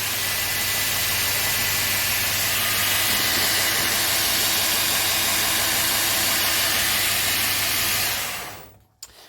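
A workshop machine motor driven by a speed controller runs at a steady loud whirring hiss with a low constant hum, holding even for several seconds before cutting off abruptly near the end.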